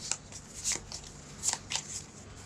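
A deck of cards from the board game Keep The Heroes Out is shuffled by hand, giving a few quick riffling bursts close up over a faint room hum.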